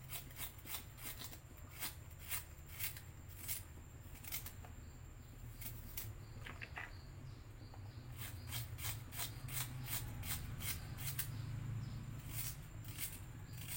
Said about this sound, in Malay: Sekarang kita potong bawang. Bawang kita, bawang besar ni. Kita potong macam ni je lah.